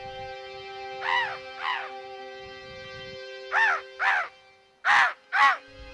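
Birds in a flock, crow-like, calling back to a man's bird call in Mustang, Nepal: two pairs of harsh, loud caws spaced a few seconds apart over a steady electronic hum.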